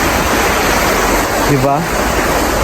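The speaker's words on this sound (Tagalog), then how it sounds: "Yung sapa nila or ilog nila, ganito siya kalinaw." A clear river or stream in Germany rushes steadily and loudly close by, a dense broadband wash of water, with a voice speaking briefly over it.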